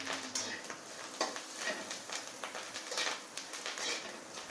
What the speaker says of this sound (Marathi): कोथिंबीर टाकते। थोड्या वेळ असं परतून घ्यायचं आहे।